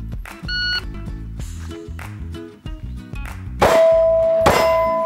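A handgun fires two loud, sharp shots less than a second apart from the ready position at a single target 7 yards away on a shooting range, after a stretch of quieter tonal sounds.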